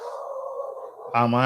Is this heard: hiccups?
no